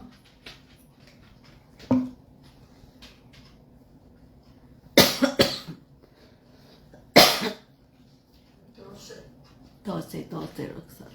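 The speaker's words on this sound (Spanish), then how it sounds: "me dio un poco de tos" A person coughs several times in sharp, loud bursts, separated by quiet pauses and a little soft talking.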